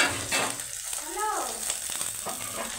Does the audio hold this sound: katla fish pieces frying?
yes